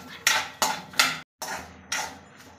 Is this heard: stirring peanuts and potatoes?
yes